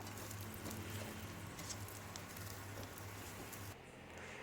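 One kilogram of garlic cloves frying in hot oil in a pan for Tamil garlic pickle, a steady close sizzle and crackle that runs throughout and softens slightly near the end.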